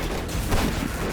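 An explosion in the video game Vektor Wars, a dense, continuous burst of booming, crackling noise that swells loudest midway through and keeps a steady roar with no talk.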